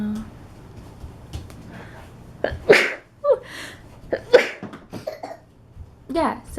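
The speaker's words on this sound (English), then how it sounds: "now I have a cough and sneezing" A few sharp sneezes and coughs from someone with a cold in a cluttered family home, loud and close, separated by short gaps with a little background noise.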